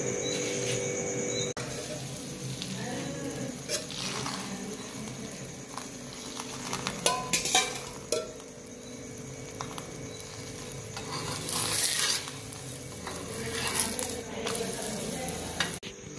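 Chapatis roasting on a hot griddle in a dhaba kitchen give off a continuous, faint sizzle with scattered clinks and scrapes of utensils, while birds and insects chirp in the background.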